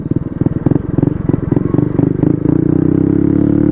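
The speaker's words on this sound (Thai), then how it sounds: "นี่แซงรถกระบะ โอ้โหนี่ก็บิดบอกๆกันเลยมันแซงได้แค่นี้แหละ" A Honda Wave 110 motorcycle accelerates hard past a pickup truck, its small engine throbbing in a rapid pulsing rhythm up close before settling into a smoother, steady drone.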